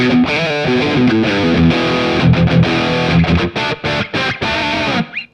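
An Epiphone electric guitar played through a Sonic 8 Pocket Master on its UK metal setting with gain on gives loud distorted riffs, sustained chords and then choppy palm-muted bursts separated by short gaps.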